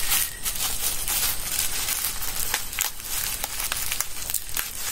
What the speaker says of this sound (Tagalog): So nakabubble wrap siya